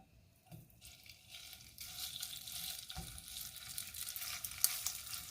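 Shrimp frying in oil in a wok heated over medium-high flame, a steady broadband sizzle that builds louder over a few seconds, with occasional stirring clatter and no voices.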